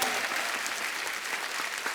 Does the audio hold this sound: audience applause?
yes